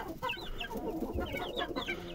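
Chickens cluck close by in a short, busy run of overlapping clucks and soft calls, with a faint farmyard background behind them.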